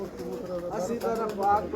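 Close, continuous cooing from prized racing pigeons kept for a mini Punjab championship, a low warbling murmur that swells slightly toward the end while voices talk nearby.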